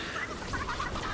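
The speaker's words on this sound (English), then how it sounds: "And you can hear that chicken's now going to come after me." A chicken in Fortnite clucks faintly in a few quick, soft bursts over a low steady game background hum.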